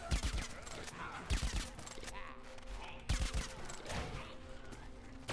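Rapid bursts of gunfire in the shooter game Plants vs. Zombies Garden Warfare 2, crackling volleys that recur close and loud over a busy background.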